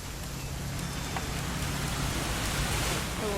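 Steady rain falls throughout a rainy weekend scene in the game What Remains of Edith Finch, a dense continuous hiss with no clear breaks, heard alone at moderate level.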